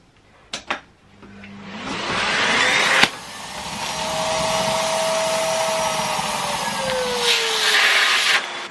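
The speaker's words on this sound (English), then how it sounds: "And then you just put the Hoover on, put it onto a low setting because you don't want to go mad." A Hoover vacuum cleaner on a low setting draws air out of a clothes storage bag, starting after a few knocks, then a steady whooshing drone with a faint whine that holds loud and even, briefly rising near the end.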